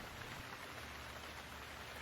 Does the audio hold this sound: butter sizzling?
no